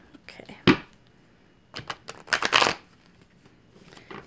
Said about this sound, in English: These are not wanting to shuffle in the correct way today.